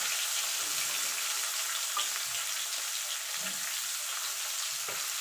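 Bitter gourd pieces rubbed with salt and turmeric frying in hot oil with tempering spices, a steady broadband sizzle throughout with occasional soft scrapes and stirring knocks, close and moderately loud, no talking.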